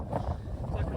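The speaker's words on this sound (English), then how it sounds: "It's always windy." Low, gusty wind buffeting the microphone in uneven bursts on the Red Bull Hardline 2023 mountain bike course, with a voice faintly mixed in.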